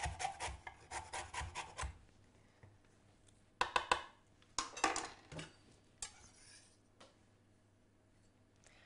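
Raw lamb being mixed by hand with harissa paste and grated lemon zest in a bowl, heard as bursts of wet rubbing and squelching, with a busy run at the start, two short clusters in the middle and quieter scrapes between.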